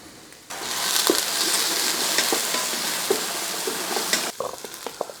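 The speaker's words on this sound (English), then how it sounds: "we just need to fry some courgette and pepper" Courgette and pepper fry in a hot pan, giving a loud, steady sizzle with scattered crackles and stirring clicks that runs for about four seconds before cutting back to a quieter pan.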